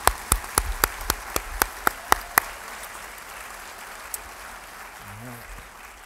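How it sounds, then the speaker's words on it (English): A few sharp, isolated claps ring out at an art and essay awards ceremony in a quick, uneven rhythm, about nine in all, then stop, leaving a quiet room hush. "Can we have one more round of applause for all of our winners and honorees today?"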